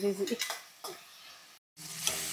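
Onions frying in a pan with curry leaves give a soft steady sizzle, broken by short scraping stirs near the start and a brief pause before the sizzle returns louder.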